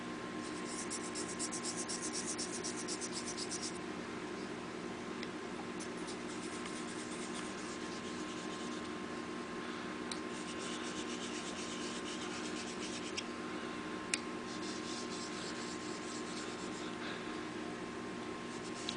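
A steel blade edge is rubbed back and forth on a sharpening stone with slurry to set a bevel, giving a steady, quiet gritty scraping in repeated strokes over a constant faint background hum, with no talking.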